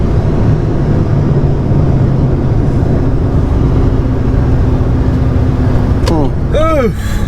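A car accelerates hard on the street after a fender roll, heard from inside as a steady, loud engine and road roar, with a voice speaking near the end.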